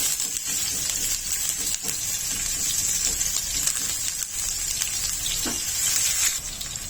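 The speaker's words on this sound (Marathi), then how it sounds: "मिरच्या तेलावर चांगल्या परतल्या गेल्यानंतर" Green chillies and curry leaves sizzle steadily in hot oil in a pan, a close, even hiss with faint occasional stirring knocks and no voices.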